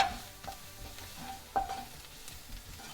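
Cumin powder and onions sautéing in a pan, a soft continuous sizzle with a few spatula scrapes and stirring knocks, fairly quiet and close.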